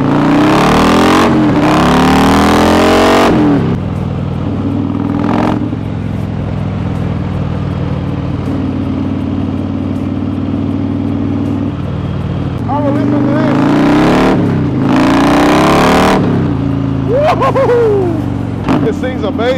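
Harley-Davidson Fat Boy with a Stage 4 128ci engine, a loud deep rumble while cruising down a road, with throttle blips and revs swelling over the steady drone; a voice talks at times.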